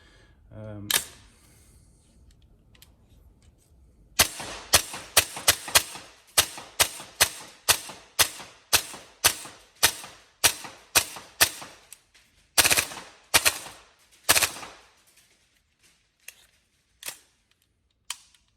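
Upgraded TM MTR16 gas blowback airsoft rifle firing, sharp close cracks with a mechanical snap, in single shots and quick strings, separated by brief pauses.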